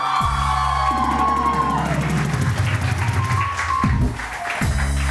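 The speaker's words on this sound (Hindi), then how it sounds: "आप जरा तालियां बजाइए जोर से" A TV studio audience claps and cheers loudly, with whoops and a couple of sharp bangs mixed into the continuous applause.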